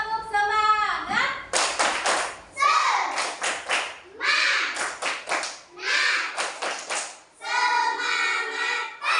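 A group of children in a classroom performs a rhythmic spirit clap in bursts of fast claps and taps, separated by short pauses, with young voices chanting and speaking between and over the clapping.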